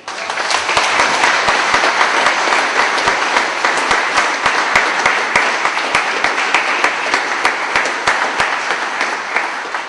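An audience gives a sailor known for the Transat race a long, steady round of applause. Dense, even clapping goes on for about ten seconds at full strength with no talk over it.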